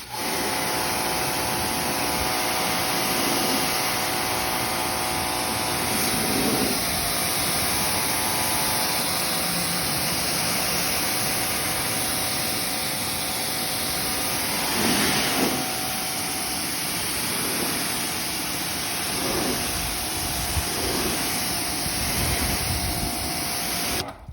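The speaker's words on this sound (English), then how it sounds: "Maybe get a little loud with a pressure washer, but just watch." Pressure washer spraying down a Ford Maverick truck, a steady loud broadband hiss with a motor drone running continuously throughout, rising in brief surges as the spray shifts across the body.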